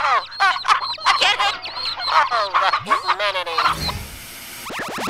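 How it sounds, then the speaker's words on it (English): Poultry calling at an egg contest, a close, busy run of honking, clucking cries layered over one another, with a rumbling thump near the end and more squawks trailing off. "the chickens are approaching the winner's stand"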